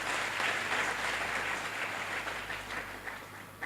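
Applause from a forum audience at the Tony Elumelu Foundation event, a continuous wash of distant clapping, faint and even across the whole stretch.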